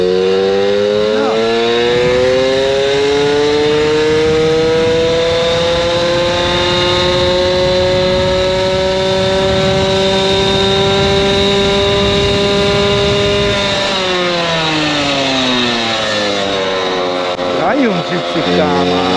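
A Puch Maxi moped fitted with a Polini 70-72cc racing exhaust revs hard and rides off, a loud, close, raspy two-stroke engine whine climbing in pitch, then easing before rising again.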